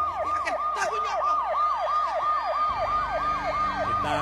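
A siren wails in a rapid, repeating yelp close by, with an engine rumbling underneath, continuous and loud.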